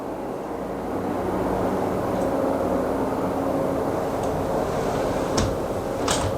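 A steady airplane roar drones over an open classroom near an air base, a broad rumble holding loud and even for several seconds with a few faint knocks near the end.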